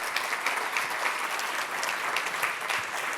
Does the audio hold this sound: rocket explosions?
no